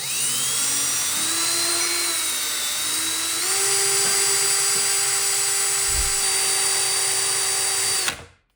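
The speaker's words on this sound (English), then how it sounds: "I'm going to try a drill." A power drill whines at high pitch, revving up in steps and holding steady before stopping abruptly near the end.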